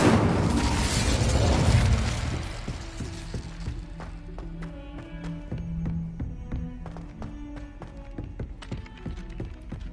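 In Hogwarts Legacy, the Incendio fire spell is cast with a loud whooshing burst of flame in the first two seconds, which fades into lighter scattered taps and game effects, with no talk.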